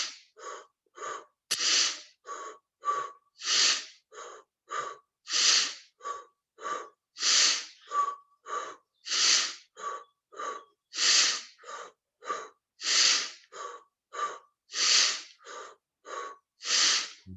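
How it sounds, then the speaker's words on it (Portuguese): Rapid, rhythmic breathing from a Kundalini breathing exercise comes as a long, steady series of close, forceful breaths. Short sharp exhales alternate with longer, fuller pulls of air, with no talking. "Mantenha a respiração no ritmo bom para você. Quando sente que consegue acelerar,"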